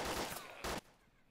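Loud, close bursts of gunfire from the DayZ mod video game fill most of the short stretch. A final volley cuts off abruptly and leaves quiet background.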